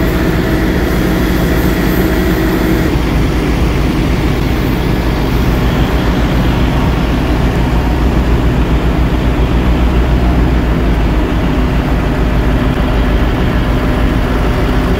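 A Liebherr 250-ton mobile crane idles with both its carrier and upper-cab engines running, giving a loud, steady, unbroken diesel drone that stays constant throughout.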